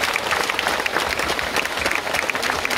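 Applause from an outdoor concert audience at a town market square, a dense, steady patter of many hands clapping, loud and sustained throughout.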